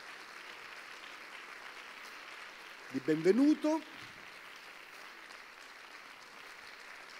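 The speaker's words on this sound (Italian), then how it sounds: "Le facciamo un grande applauso" Audience applause at a public talk welcoming a guest speaker, a short burst of clapping of about a second rising after a spoken welcome, with ambient room hiss throughout.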